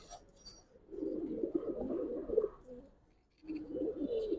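A pair of Palla-line Giribaz pigeons at a loft give low, throaty coos in two clear bursts, close and fairly loud, with a brief quiet pause between them.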